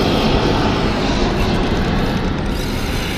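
An airplane passes overhead, a loud, steady broadband roar of aircraft engines filling the whole short stretch without pause.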